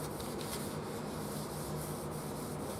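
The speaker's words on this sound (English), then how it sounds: "I'm going to wipe this with a shop towel just to see if it's taking" A shop towel wipes along a wooden bass guitar neck with a grain-filled finish, giving a continuous, soft, close rubbing swish in repeated short strokes, no voices over it.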